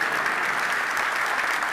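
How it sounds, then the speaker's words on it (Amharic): A church congregation applauds the preacher's wife and family during a Sunday sermon, steady dense clapping from a large crowd filling the room without pause. "ለባለቤቴና ለቤተሰቤ ካላጨበጨባችሁ ሞቅ ብሎ መቀጠል አልችልምና"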